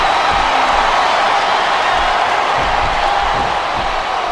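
Loud, steady roar of a wrestling arena crowd chanting in Smackdown vs Raw 2007, a dense continuous wall of voices with no break.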